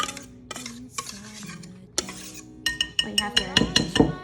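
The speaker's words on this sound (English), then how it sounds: "I'm gonna add the other half and continue to fold into the mix." A spatula folds whipped cream into a no-churn vanilla ice cream mixture in a bowl, giving soft scraping and clinking against the bowl with a quicker run of taps toward the end. No one speaks.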